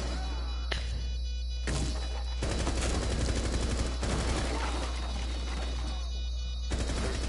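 Gunfire in a video game: single shots followed by dense rapid bursts like automatic fire, loud and close, with a few voices heard faintly.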